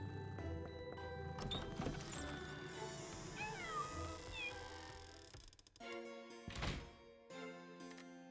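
Several cats meow in short, rising calls in the game Pocket Mirror. The meows come over a soft ambient background, and a few dull thunks follow later.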